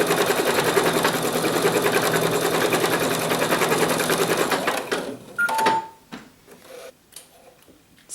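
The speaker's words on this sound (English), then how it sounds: "We're going to start the machine and it's going to stitch the placement for the eyeballs." A sewing machine runs steadily for about five seconds, stitching eye placement on a fabric owl mug rug with a fast, even mechanical whir, then stops, followed by a few faint clicks and handling sounds nearby.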